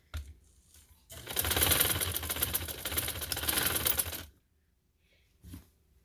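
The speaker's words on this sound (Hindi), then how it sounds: "अब मैं इसके ऊपर सिलाई देने लगी।" A sewing machine stitching a border strip onto cloth runs in a loud, close, rapid mechanical chatter for about three seconds, then stops, followed by one brief short burst.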